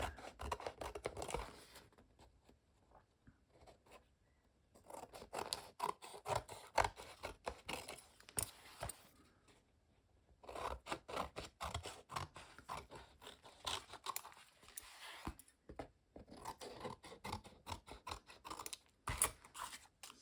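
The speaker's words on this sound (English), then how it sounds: "I will cut the edges clean so it is also always easier to see how it looks" Scissors snip along the edges of glued collage made from greenish-bluish gel-printed papers, a steady run of close crisp cuts in bursts separated by brief pauses, with no talking.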